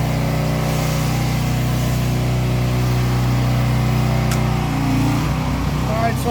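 A pressure washing rig's engine runs steadily at high revs, a loud constant drone with a strong low hum that eases slightly toward the end, captured close by during driveway cleaning.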